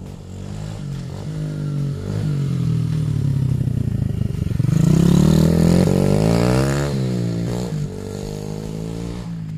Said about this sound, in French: La Bastos BS 90 Mini.